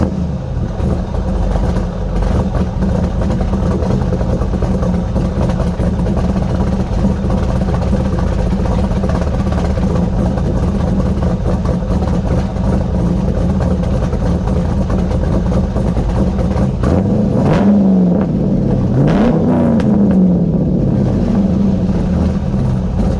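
A car engine with a BTR Stage 3 cam and nitrous idles loud and lumpy through most of the stretch, then revs up sharply a couple of times near the end during idle tuning.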